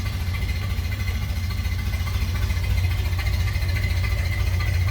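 A 1929 Ford Model A Tudor sedan engine runs at a steady, close idle, a continuous low rumbling drone with even pulsing and no pauses.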